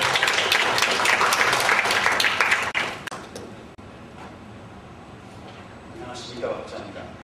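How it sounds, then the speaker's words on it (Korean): Seminar audience on long-lived companies and social responsibility claps to welcome a pharmaceutical executive, loud applause for about three seconds that then fades to quiet room tone with faint movement. "큰 박수로 맞아주시기 바랍니다."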